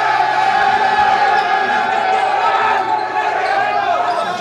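A packed high school basketball gym in Kansas with fans from Lansing and Highland Park roaring and cheering steadily before a matchup of two unbeaten teams, with an announcer talking over the crowd.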